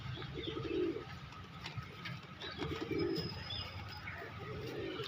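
Caged pigeons coo softly in low repeated phrases amid a faint steady background hum, with no one speaking.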